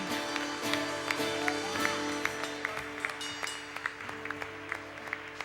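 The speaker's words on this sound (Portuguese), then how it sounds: "Aplauda ao Senhor Jesus." Church congregation clapping during a Tuesday evangelical worship service, a steady patter of hands over sustained organ or keyboard tones, moderately loud and continuous.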